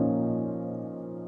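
A Labs piano in FL Studio, processed with OTT compression and EQ, holds a soft sustained chord that slowly fades out.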